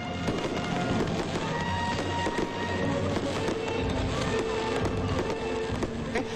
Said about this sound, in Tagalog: Kanya-kanya silang gimmick sa fireworks display.